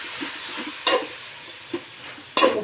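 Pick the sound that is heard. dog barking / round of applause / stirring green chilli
stirring green chilli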